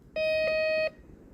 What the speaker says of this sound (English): Right, beeping.